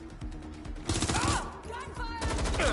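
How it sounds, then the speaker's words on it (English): Gunfire in the Watch Dogs Legion video game, dense bursts of rapid game shots crackling over a steady soundtrack, loud and continuous through most of the stretch, with a voice shouting briefly among the shots. "Gunfire!"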